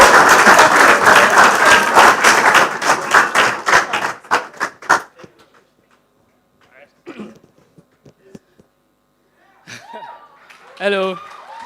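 An audience at an open source community conference gives several seconds of dense, loud applause that thins into scattered claps and fades out, followed by quiet pauses and a few short voices.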